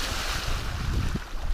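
Open Pacific Ocean waves far offshore, a steady broadband wash of sea and wind with low rumbling swells, continuous and fairly loud throughout, no voices.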